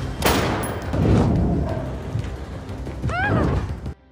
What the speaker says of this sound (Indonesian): Lina tembakan senjata keluar jendela agar polisi berdatangan